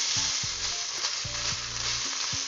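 Taro leaves sizzling and frying in a little oil for a hilsa fish head dish, with a steady bright crackle and occasional stirring scrapes and clunks of the utensil in the pan, close and continuous.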